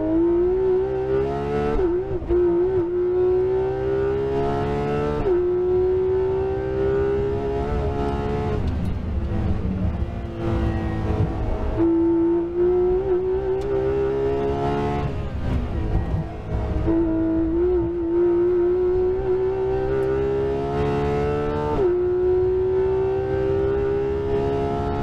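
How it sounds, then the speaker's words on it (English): A Porsche 911 GT3 RS engine is heard from onboard during a fast Nürburgring lap, a loud sustained howl that climbs in pitch through each gear, then drops sharply at upshifts and climbs again, with no talking. "The sound the GT3 RS makes, incredible."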